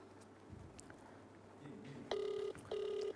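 Telephone ringing on speakerphone, two electronic ring bursts close together after faint background murmur.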